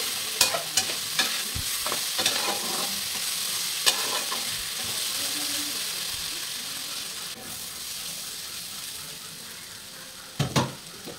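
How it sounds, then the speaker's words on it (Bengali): Potatoes and onions fry in a pan with a steady sizzle, while a utensil stirs and scrapes against the pan in repeated clicks and knocks, close and clear, with no talking. "আলু আর পেঁয়াজ কিন্তু সুন্দরভাবে ভাজা হয়ে গেছে।"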